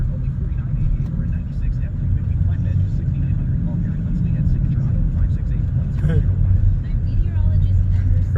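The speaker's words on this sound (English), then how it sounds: "Very big, long truck." A big, long yellow truck rumbles past in heavy traffic at a motorcycle rally, a steady low engine drone building slightly as it passes close by, with people talking over it.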